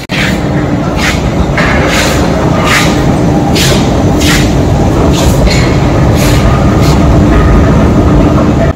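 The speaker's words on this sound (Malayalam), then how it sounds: "ഇതാണ് മെട്രോ വരുന്ന ആ ഒരു ഫ്ലോർ. അപ്പൊ ഇനി ഇവിടെ നമുക്ക് മെട്രോ വരുന്ന കാണാം." A metro train arrives at an underground station in Malmö, making a loud, steady roar that fills the platform. Repeated high hissing bursts cut through it throughout.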